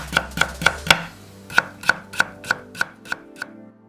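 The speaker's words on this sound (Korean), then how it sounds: "감자 1개는 4등분해서 얇게 슬라이스해서 담았다" A knife slicing a potato thinly on a board, heard as a steady series of about a dozen sharp, close chops in even rhythm with a brief pause partway through, loud and clear with no voices.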